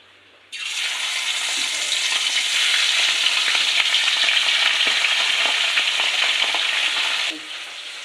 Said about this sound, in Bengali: এদিকে তেল গরম হয়ে গেছে, মাছগুলো ছেড়ে দেব।